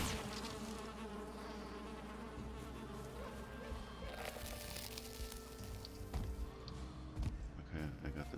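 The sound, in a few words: buzzing bee in the video game Valheim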